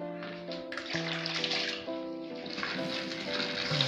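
Water pours steadily into a container while liquid soap is being made, a continuous rushing stream that stays loud and even throughout, with no talking.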